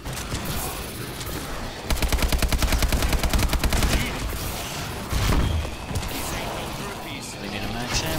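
Gunfire in a zombies video game: a burst of rapid automatic shots in an even rattling rhythm over a game background with other effects, loud and up front.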